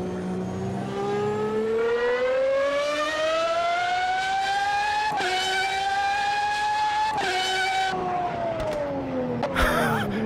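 A V12 race car engine in the sim racing game Automobilista 2 screams through rising gears, its smooth harmonic whine climbing, dropping sharply at each upshift, loud and close with no talk over it.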